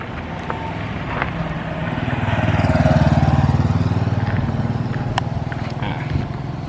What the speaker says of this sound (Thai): นี่สิเป็นรถทีมงานนะครับ มาส่ง ไปแล้ว